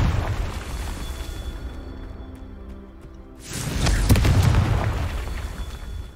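A Confringo spell goes off in Hogwarts Legacy: after a quieter lull, a sudden booming blast erupts and rolls into a heavy, rumbling aftermath that lingers for a few seconds.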